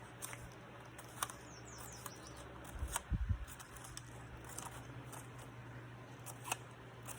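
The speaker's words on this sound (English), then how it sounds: "And then just snip, snip all the way around." Scissors snipping around magazine paper, faint quiet clicks and rustles with a brief cluster of louder cuts and paper handling near the middle.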